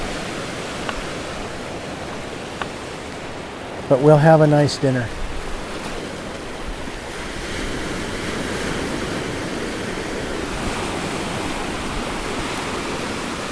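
Surf rolling in at sea level, a steady broadband wash of water with a voice briefly speaking partway through, then the waves continuing alone.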